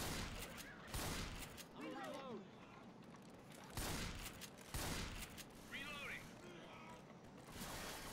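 Video game gunfire in Left 4 Dead 2, with repeated loud bursts of shots over continuous game noise while a player talks throughout.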